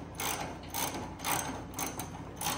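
Ratchet wrench clicking as it loosens a bolt on the exhaust of a C8 Corvette, in quick repeated bursts of close, steady ratcheting with no voices.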